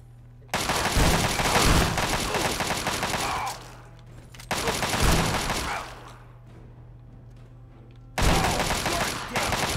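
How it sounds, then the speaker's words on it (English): Sawed-off shotgun fire in the video game Fallout 3, heard as three loud, dense bursts of blasts and rattling gunfire with short gaps between them. "Sawed off shotgun, I guess."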